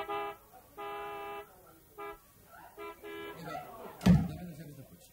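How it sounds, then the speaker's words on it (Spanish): A car horn honks in several short and long blasts, fairly close, followed by a sharp thud near the end. "la bocina de nuestro coche"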